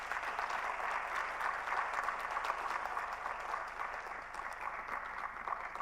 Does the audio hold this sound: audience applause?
yes